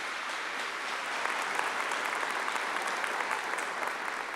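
A church congregation applauds during a sermon, a dense, steady clapping from a large crowd heard at a distance, filling the whole stretch without a break.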